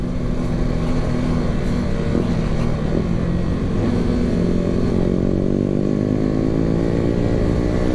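A motorcycle with an open exhaust pipe, an RS 150 or Sniper 155, revs loud and close, its rasping engine note holding steady and then climbing in pitch as it accelerates, with no voices over it.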